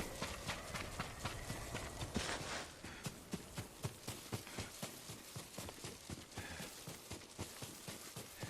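Horse hooves clip-clop in a steady, quick rhythm, moderately close, over a faint background wash, in the video game Ghost of Tsushima.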